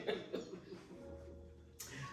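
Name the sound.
cough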